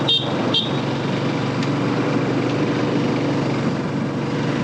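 Two short car horn toots on a mountain ghat road from Chengam to Jamunamarathur, followed by a continuous hum of road traffic and engine noise.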